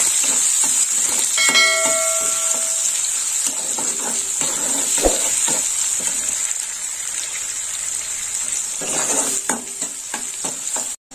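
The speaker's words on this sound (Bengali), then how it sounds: "পেঁয়াজটা একটু ভাজা হোক।" Chopped onions sizzle in oil in a pan for a prawn and bori curry, a constant close hiss broken by stirring scrapes and a few metallic clinks and knocks of the spoon, with no voices.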